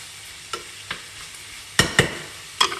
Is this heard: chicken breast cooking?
yes